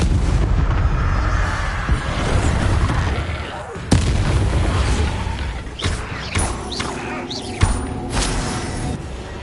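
Bombarda and Confringo explosion spells cast in Hogwarts Legacy, heard as a series of loud booming blasts with sharp impacts and rumbling debris, some voice sounds mixed among the explosions.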